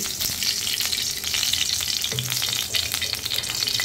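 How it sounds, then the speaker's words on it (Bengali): Oil crackles and sizzles steadily in a pan heating up for a curry, a close, continuous frying hiss with faint spoon clinks. "এই যে আমি তেল দিয়ে দিচ্ছি তরকারি রান্না করার জন্য"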